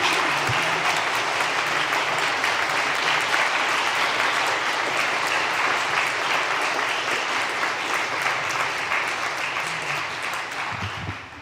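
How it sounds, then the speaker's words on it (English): A church congregation claps for its newest members during a Sunday service, sustained even applause from a large crowd filling the room, fading out toward the end with a few voices. "let us take a moment to applaud and give gratitude for our newest members of the church"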